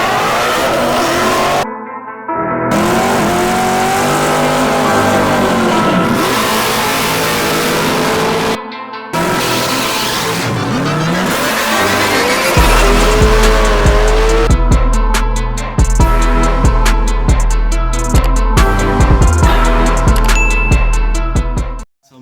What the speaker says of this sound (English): And I just pulled the truck in